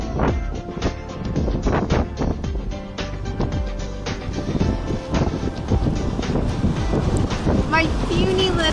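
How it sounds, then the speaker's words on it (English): Strong wind blasts across a Florida beach, buffeting the microphone with loud, gusty rumbles that keep rising and falling, and a voice speaks briefly toward the end. "So windy here."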